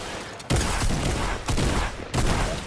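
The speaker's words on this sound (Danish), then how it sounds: "Han skød igennem en rampe." Gunfire in the video game Fortnite: three bursts of rapid, loud shots, each lasting about a second, over a steady game background with no talking.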